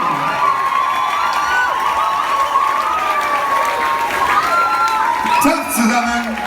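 A concert crowd gives warm, sustained applause with cheers and whoops for a singer joining a band on stage, a dense, continuous wash of clapping with a voice briefly rising over it.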